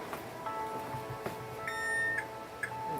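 A kitchen timer being set, a quick series of short electronic beeps and tones at close range, faint, over quiet background noise.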